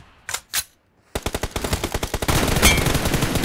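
M416 assault rifle fire in a video game: two separate loud shots, a brief silence, then a rapid run of automatic fire that swells into a continuous close, loud burst.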